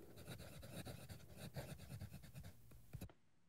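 A Pelikan Stola III fountain pen with a medium steel nib, inked in Pelikan Edelstein Amethyst, scratches steadily across paper in quick close strokes for about three seconds, then stops, with no talk.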